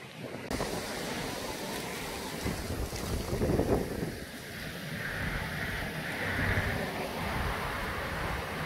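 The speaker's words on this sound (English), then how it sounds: "It's also extremely windy today" Strong wind roars steadily across the microphone, buffeting and rumbling throughout with gusts swelling and easing, loud and close.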